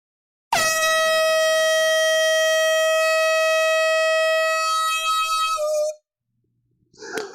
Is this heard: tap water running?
no